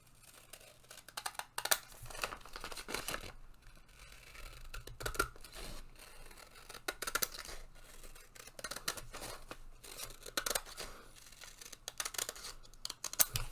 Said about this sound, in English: I'll just take my scissors and cut this down